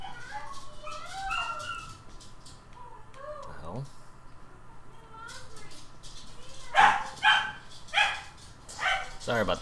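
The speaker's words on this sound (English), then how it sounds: "Sorry about the dogs." Dogs bark indoors in a room, a run of sharp, fairly close barks and yips grouped near the end, with a person talking quietly through the earlier part.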